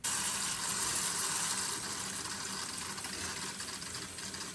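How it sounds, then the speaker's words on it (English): Soapy water drains steadily from a household sink, a continuous gurgling, trickling wash that stays fairly loud and even throughout with no voices. "Well, it's draining."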